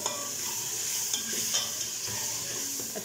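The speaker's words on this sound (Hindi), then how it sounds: "अच्छी तरह इसको भून लेंगे ताकि बीच में जो है वो कच्ची ना रहे।" Masala for moong masoor dal being roasted and stirred in a pan, a steady close sizzle with soft scraping strokes throughout, no voices.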